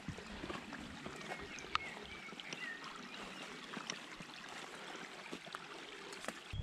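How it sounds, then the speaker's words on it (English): A small brook flows through woodland carpeted with bluebells, giving a faint, steady trickle and rush of water with no talking. "Just this sea of bluebells and the little brook there"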